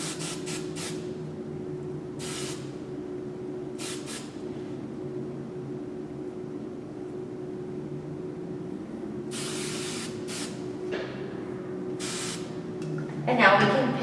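Several short bursts of hairspray misting onto hair for a messy bohemian style, each a soft hiss lasting about a second, heard under steady talking.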